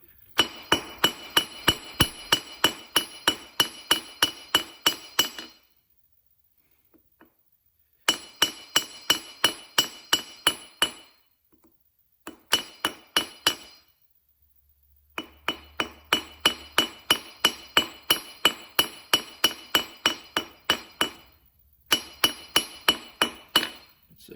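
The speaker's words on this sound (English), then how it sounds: "I'm going to hammer into a square" A hammer strikes metal being squared on an anvil for a miniature poleaxe, ringing in rapid, steady bursts of blows broken by short pauses, loud and close with no talk.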